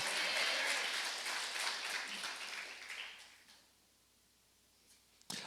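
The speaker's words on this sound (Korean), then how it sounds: "오늘 부활절 부활하신 하나님께 영광의 찬송의 박수를 드립니다." An Easter Sunday church congregation claps together in a dense burst of applause that fades out after about three seconds, leaving near silence and a faint low hum, then a sharp clatter at the end.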